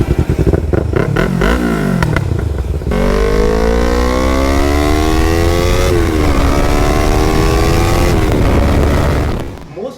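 Yamaha R3 sport motorcycle on a ride, its engine revving loud and close with rising and falling pitch through gear changes, a steady roar holding until it fades at the end.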